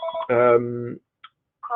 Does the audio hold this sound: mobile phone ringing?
yes